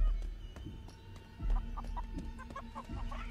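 Video game chickens cluck in a quick run of short, bright calls over a low ambient hum, fairly near and moderately loud, with a soft thud partway through.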